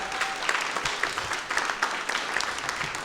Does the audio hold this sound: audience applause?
yes